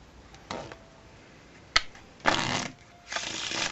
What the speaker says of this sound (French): C'est important que le spectateur mélange bien le jeu de cartes.